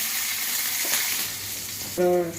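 Onions and curry leaves fry in hot oil for an egg curry, giving a continuous hiss that dips briefly midway and ends with a short tonal hum over the sizzle. No one speaks.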